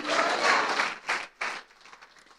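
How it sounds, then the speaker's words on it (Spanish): A congregation applauding in church at an anniversary service, a short burst of clapping that fades out in a couple of quick swells. "Dele fuerte ese aplauso, por favor, al Señor."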